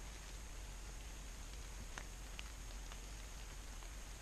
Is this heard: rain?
yes